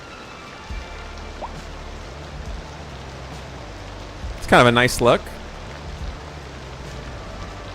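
Steady rain hiss from a StarCraft II Protoss game runs throughout at a low, even level, with a voice talking briefly over it midway.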